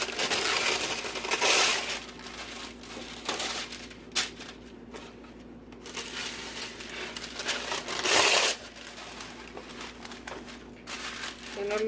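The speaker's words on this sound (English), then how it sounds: "I'm going to take 2 pieces of parchment paper" Parchment paper crinkles and crackles in bursts as it is pressed into baking pans for homemade bread, close and uneven, with soft handling noises between.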